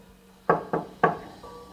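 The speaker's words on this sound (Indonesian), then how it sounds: "Terus bunyi ketukan pintu." Three knocks on a door ring out in quick succession, sharp, hollow and close, with a brief gap before the third, in an otherwise quiet space.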